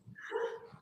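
A dog gives a single short bark, close and fairly clear, with faint background sound around it.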